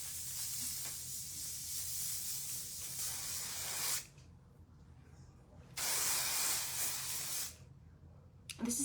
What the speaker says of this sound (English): I'm gonna spray my hair with some Trois Chic 3-way hairspray.